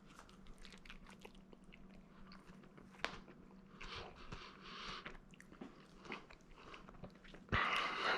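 Bites and chewing on a burrata pizza topped with tomatoes and bell peppers, baked in an Ooni Koda 16 oven, with soft crunches and mouth sounds close to the mic, ending in a louder crunchy burst.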